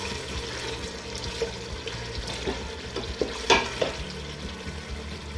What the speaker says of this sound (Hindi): अब हम इसे तकरीबन 10 मिनट तक इस तरह मीडियम फ्लेम पर भूनेंगे।